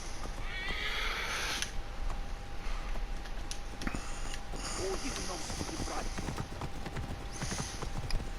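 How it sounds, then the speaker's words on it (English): A rainbow unicorn is ridden through city streets in Assassin's Creed Origins, its steady clip-clop of hooves running throughout with whinnies and neighs, while someone talks over it. "Let's ride our unicorn."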